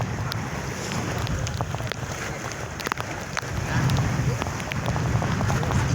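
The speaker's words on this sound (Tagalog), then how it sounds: "Dinampas ng alon." Large waves surge and slap against a boat amid gusty typhoon wind noise, swelling louder toward the end.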